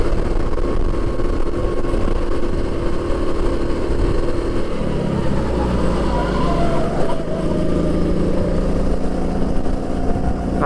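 A racing kart engine on the Empuriabrava karting track buzzes continuously, its pitch dropping as it slows midway and then climbing again under acceleration, loud and close throughout.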